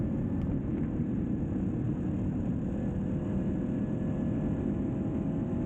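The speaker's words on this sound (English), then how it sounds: "the VFR sounds like an unleashed demon at higher RPMs" A Honda VFR 750 motorcycle engine runs at high RPM with a constant, droning roar that holds an even level without clear revving swings.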